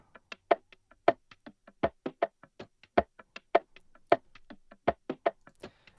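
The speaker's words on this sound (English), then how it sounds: "I found a percussion loop" Dry hand percussion taps and knocks in a busy repeating groove, crisp and close with no other sounds.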